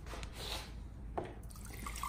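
Fresh filtered water poured for an animal, a soft liquid trickle and splash running steadily close by at low level, with no talking.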